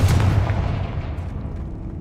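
Confringo spell blast in the video game Hogwarts Legacy: a single loud booming impact with a deep low thump that fades over about two seconds, heard alone.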